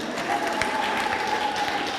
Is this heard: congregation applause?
yes